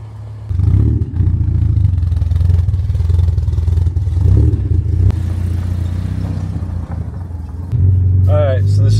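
A lowered Porsche 944 pulls away on its first drive, its engine rumbling loud and close, rising and easing, while a voice talks over it.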